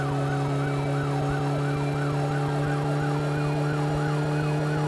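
A loud wailing police siren in the game My Summer Car sweeps up and down continuously over a steady droning engine hum, with no voices.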